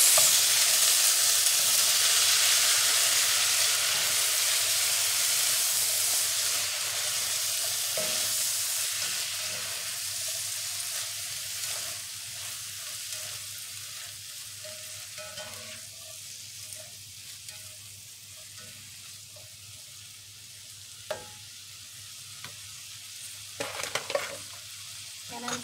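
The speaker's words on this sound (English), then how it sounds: "now I'm going to dump this beans in. Give it a good mix." Beans are stirred in a sizzling frying pan: a steady frying hiss that slowly fades, broken by occasional scraping and knocking of the spoon against the pan.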